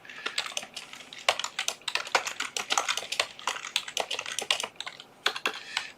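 Rapid, uneven typing on a Logitech wireless keyboard, a dense clatter of close key clicks continuing steadily with brief pauses, no voices.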